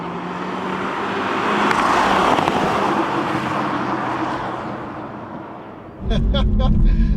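A Toyota Supra engine drones and swells as it drives at speed on a race track, with a sharp jump in loudness and rumble near the end.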